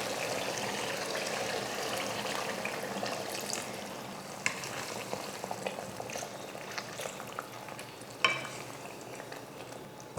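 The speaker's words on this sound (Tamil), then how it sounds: "இப்போ தண்ணி சேர்த்துக்கலாம்." Water added to sautéed onion masala in a pan sets off a soft continuous sizzle and bubbling, with occasional light clinks of a spoon stirring.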